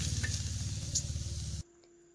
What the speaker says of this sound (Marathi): इथं अगदी बारीक जाळावरती कारलं भाजायचं चालू आहे